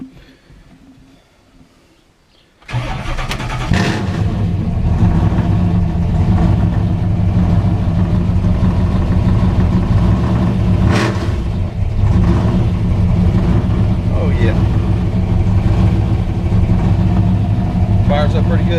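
A car fitted with a 481 engine cranks and catches after a quiet opening, then settles into a loud, steady, rumbling idle with a brief rev midway, heard up close.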